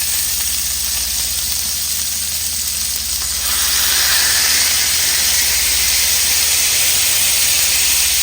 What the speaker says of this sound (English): Just going to smash it out. Smash it out really flat.